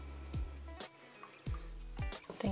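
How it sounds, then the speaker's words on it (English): Water poured into a container for a toy doll, heard as a few short splashing gurgles and drips in bursts over a quiet, close background, with no talking. "So let's pour some water in here."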